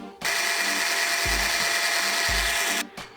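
A power drill boring a pilot hole in a Yamaha FZ1 motorcycle part whirs steadily and loudly for about three seconds, close by, with a couple of low thumps beneath before it stops abruptly.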